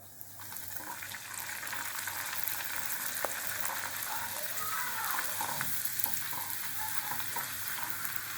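Luchi fry in hot oil with a continuous, fairly faint sizzle and bubbling, steady throughout with no talk.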